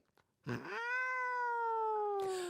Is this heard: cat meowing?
yes